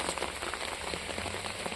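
Rain falls steadily on garden plants and chrysanthemums, a soft, continuous patter of drops on leaves, close and fairly quiet, with no voices.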